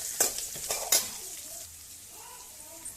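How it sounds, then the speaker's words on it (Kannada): Capsicum sizzles in a pan as spice powder is stirred in, with a few sharp spoon scrapes and clinks early on before the frying settles into a quiet hiss. "ಈಗ ಇನ್ನು ಕ್ಯಾಪ್ಸಿಕಮ್ ಎಲ್ಲ ಫ್ರೈ ಆಯಿತು."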